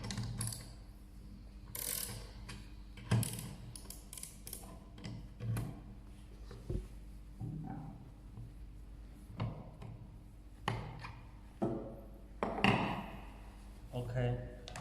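An automotive spring compressor tool, model B2002, being turned, giving soft irregular metallic clicks and ratcheting ticks at close range, with occasional talking mixed in.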